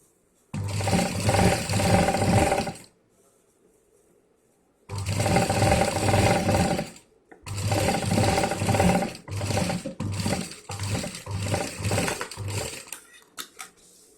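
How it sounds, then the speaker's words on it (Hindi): A sewing machine stitches a fabric travel bag in loud, close bursts of rapid needle chatter, with pauses between the runs and a choppier final stretch. "यहाँ से हमें स्टिच कर लेना है।"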